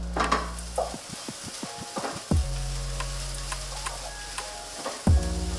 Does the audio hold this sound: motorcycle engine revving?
no